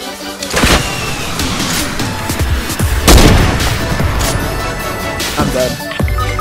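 Rocket blasts from an RPG in a first-person shooter video game, several loud booming explosions close together over a dense layer of gunfire and game noise, with a voice briefly audible.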